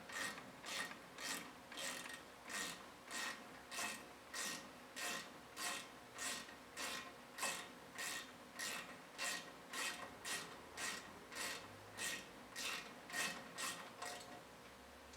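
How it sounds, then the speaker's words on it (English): A ratchet drives disc brake caliper bolts until snug, giving a steady run of about twenty-five evenly spaced, close clicking strokes over fifteen seconds, with no voices. "take the ratchet and we'll go ahead and drive them in until they're snug"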